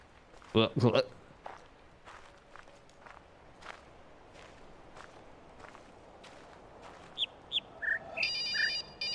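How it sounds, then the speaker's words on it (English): A phone ringtone goes off near the end as a short run of bright repeated tones, after a stretch of footsteps and small knocks in a quiet room, with people talking at the start. "Turn off your goddamn phone, whoever that is."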